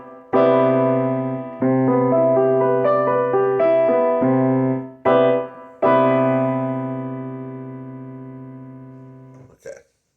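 Ninth chord on piano, right hand adding the third, fifth, seventh and ninth over the left hand's root and seventh, struck several times in a row, each rich chord ringing and slowly decaying, the last one sustained long before a soft release; no talking.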